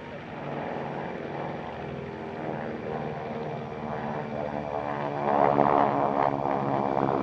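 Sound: Lockheed Electra Junior propeller plane flying at airshow

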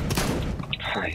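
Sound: gunfire in the video game CS:GO

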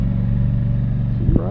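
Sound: Scag V-Ride 2 61-inch mower engine running

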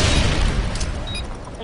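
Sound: stun grenade thrown and exploding in a video game

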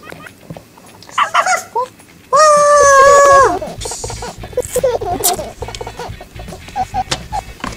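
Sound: voice imitating a dog barking

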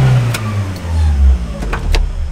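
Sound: car engine revved before switching off

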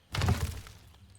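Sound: object shattering in the video game Moving Simulator

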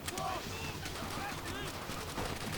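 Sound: gunfire in video game Call of Duty World at War

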